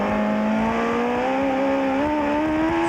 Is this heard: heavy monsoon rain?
no